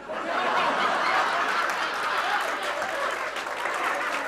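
A live audience at a Hindi comedy poetry gathering claps steadily for several seconds, a dense wash of applause mixed with scattered chuckles and murmurs.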